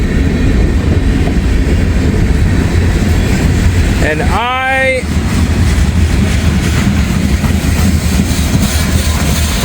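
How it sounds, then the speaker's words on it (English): End of a freight train rolling past up close, loud continuous clattering wheel and rail noise throughout, with someone speaking briefly midway. "All right, here comes the end of the train."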